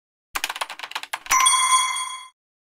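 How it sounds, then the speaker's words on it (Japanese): A rapid run of short clicks or taps gives way to a bright, sustained ringing chime that fades out after about a second, standing alone with no talk, used as a doorbell in a Japanese comedy skit. "ピンポン。"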